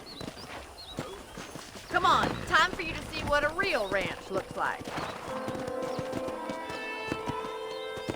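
Horse hooves clip-clop at a steady walking pace in the Red Dead Redemption western video game, with a horse whinnying and snorting and someone speaking over the hoofbeats, then a sustained musical tone.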